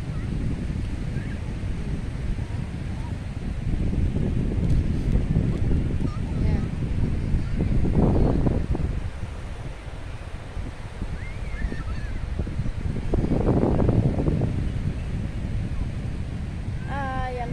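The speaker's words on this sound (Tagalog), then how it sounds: "ang hangin ay makulit. Ang lamig kaya ng hangin" Wind gusts buffet the microphone at breezy Bangsaen Beach in Thailand, swelling and fading in rough surges over a constant rushing background.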